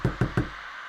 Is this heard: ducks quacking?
no